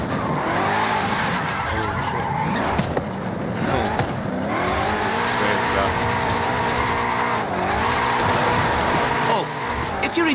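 Drift car tires squeal and skid in Forza Horizon 5, with high wailing slides rising and falling over a revving engine, loud and continuous under a speaking voice.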